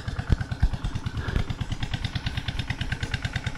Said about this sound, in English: There's a generator over there pumping water